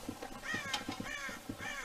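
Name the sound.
crows cawing, from the video game Red Dead Redemption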